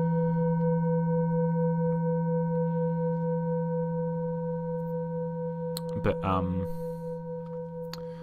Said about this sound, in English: it's a reminder I have on my laptop.